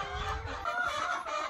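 Farm hens clucking together in a rural yard, a steady overlapping flock chatter that carries on without pause for the whole stretch, close and fairly loud with no talk over it.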